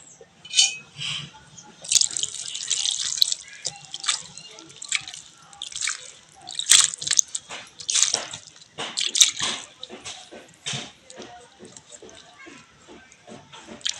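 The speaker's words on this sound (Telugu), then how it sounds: "ఇప్పుడు కొంచెం అన్నీ నీళ్ళు పోసుకుంటామండి" Water splashes and trickles in irregular bursts as it is poured into a pot, dripping and pouring close by with short pauses between.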